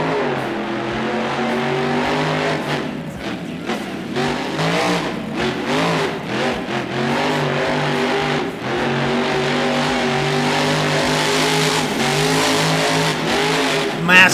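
Monster truck engine in BeamNG, loud and sustained with revs surging and falling, tire squeals and skids mixed in, under steady commentary.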